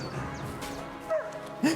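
A dog barks and yips during a fight in the video game Kingdom Come Deliverance 2, two short sharp barks standing out over busy combat noise and game ambience.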